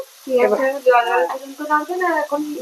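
Chopped onions sizzling in hot oil in a home kitchen, a faint steady hiss running under someone talking close by.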